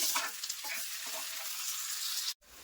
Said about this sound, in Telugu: ఒక టమాటా వేసుకోవాలండి టమాటా వేసుకున్నాక రెండు నిమిషాలు ఫ్రై చేసుకోవాలి